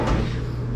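A drawer in a hotel room kitchen on Aruba slides open with a short scrape and low rumble, close and brief, with no talking.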